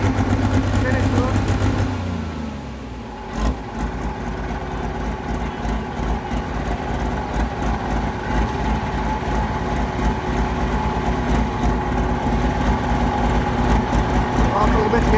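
A 4,500-horsepower pro stock pulling tractor idles as it warms up, a heavy, loud rumble that dips briefly early on, then settles into a steady, throbbing low drone that continues throughout.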